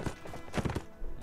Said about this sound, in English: This horse is slow.